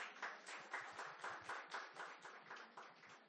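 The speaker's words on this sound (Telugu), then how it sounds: "గారికి ఒకసారి గట్టిగా చప్పట్లు" An audience at a women's organisation event claps together in a steady, rhythmic burst of applause that carries on evenly throughout, fairly distant and quiet.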